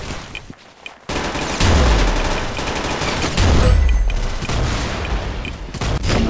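Rapid bursts of gunfire in the Roblox game Arsenal, loud and dense, with booming low thuds layered under the repeated shots.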